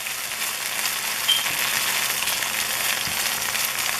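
Peppers sizzling steadily in a hot pan, a bright, even crackle and hiss that runs loud and unbroken throughout, with no talking.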